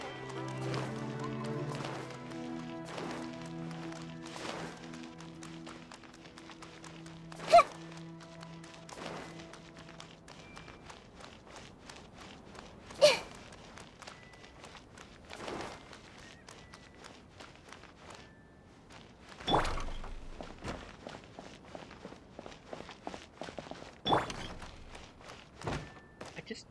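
Character footsteps in a video game quest scene: a run of soft, quick steps with a few sharper thuds, following a brief musical passage at the start, moderately quiet throughout.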